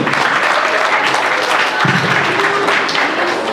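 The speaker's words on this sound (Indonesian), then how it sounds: "Tepuk tangan untuk ayah dan bunda." Audience applause honoring parents at an Indonesian Islamic elementary school graduation ceremony, a steady dense wash of clapping filling the whole stretch at a loud, even level.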